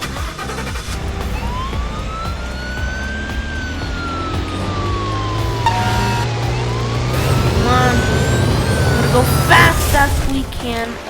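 A truck siren in the video game Car Crushers 2 wails in long rising and falling sweeps over a steady engine drone, with game noise and a voice speaking briefly near the end.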